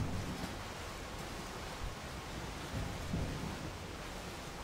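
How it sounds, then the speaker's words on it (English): Wind in World of Warcraft's Eye of Azshara dungeon blows as a broad, steady roar with low rumbling swells, alone and moderately loud throughout the short stretch. "Oh my god, there is wind."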